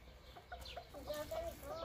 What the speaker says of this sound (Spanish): Agarra ese gallo que está llorando.